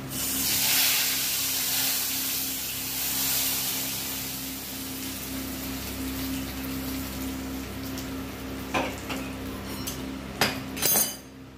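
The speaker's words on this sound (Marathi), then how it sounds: "आणि टाकू याच्यावर फोडणी." Hot tempering of garlic, red chillies and chilli powder is poured onto kadhi, setting off a bright hissing sizzle that fades gradually, followed by a few sharp clinks of a utensil near the end.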